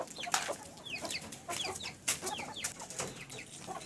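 A broody hen on straw bedding clucks repeatedly, soft close chirping clucks in an uneven rhythm, with a few sharper louder calls standing out against a quiet background.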